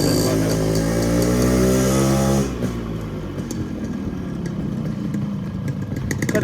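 A Yamaha RX 100 motorcycle engine runs loud and close during a ride, holding a steady buzzing drone for about two and a half seconds before shifting to a rougher, clattering note with wind and road noise.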